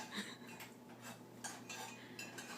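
A mixer whisk scrapes and clinks against a pot while stirring chocolate sauce, giving rapid metallic taps and rustles at moderate, close level with no talk.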